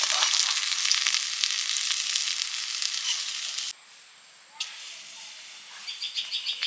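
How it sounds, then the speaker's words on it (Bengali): Fish frying in oil gives a dense, loud sizzle for several seconds, then drops to a quiet hiss with a few light clinks as the pieces are lifted out. "ভাজা মাছগুলো ভেজে নিয়েছি তুলে নিচ্ছি"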